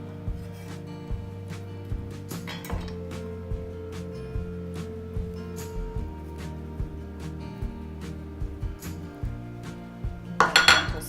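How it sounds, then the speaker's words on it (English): A utensil scrapes and clinks against a pot while stirring a simmering herb sauce with basil, thyme and parsley for mussels, with repeated light taps and a low steady simmering hum, ending in a brief cluster of clinks. "Stir this for a little while, a couple minutes."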